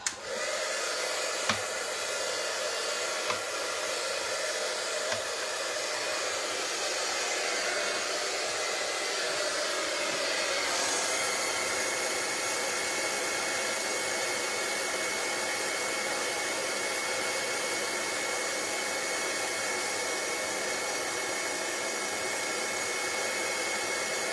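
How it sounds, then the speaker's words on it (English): An embossing heat gun blows hot air in a steady, loud whoosh that runs continuously with no talk, its tone shifting slightly partway through as the airflow settles. "I'm going to grab my embossing gun and I'm going to heat it up."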